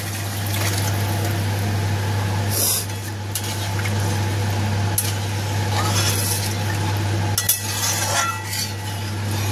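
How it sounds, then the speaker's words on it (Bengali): Water goes into a pan of well-fried spice paste for a fish curry. A steady, loud wash of splashing and stirring runs over a constant low hum, with a few brief clinks and no speech. "এবার এতে আমি জল দিয়ে দেবো"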